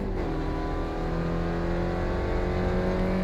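A race car engine in the iRacing sim revs steadily at high pitch, a sustained loud drone with stable tone and slight pitch rise, alone with no talk.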